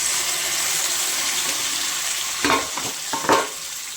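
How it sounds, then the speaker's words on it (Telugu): Okra sizzles and fries steadily in a pan, with a couple of louder stirring scrapes near the end. "బెండకాయ బాగా ఫ్రై కావాలండి"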